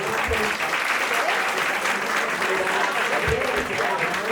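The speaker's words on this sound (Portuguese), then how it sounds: "Uma salva de palmas para esse momento." An audience at a public ceremony with local authorities in Governador Valadares applauds, a loud, sustained round of clapping filling the room with a few voices faintly beneath it.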